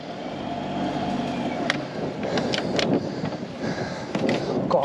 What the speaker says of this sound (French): Et un petit coup de fouet au moteur.